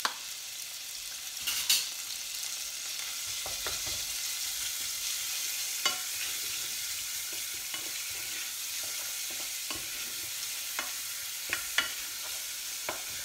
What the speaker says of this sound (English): I've got the bacon in there, it's in a hot pan.